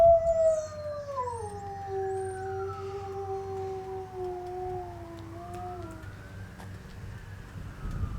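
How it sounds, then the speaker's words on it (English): A dog howls in long, wavering, siren-like tones that rise and fall steadily for several seconds, close and fairly loud over a low rumbling background. "that's the dog."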